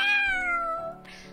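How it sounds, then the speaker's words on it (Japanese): A cat in a video game gives a single drawn-out meow that falls in pitch, clear and close, followed by soft game sounds. "猫ちゃんに話しかけましょう"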